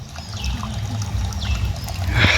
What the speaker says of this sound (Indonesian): Ini mata airnya, teman-teman, keluar dari sana ya.